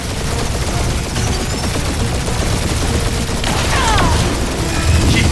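A dense, continuous barrage of gunfire from a Guardians of the Galaxy video game battle around the Milano ship, loud and close, with rapid overlapping shots and mechanical clatter throughout.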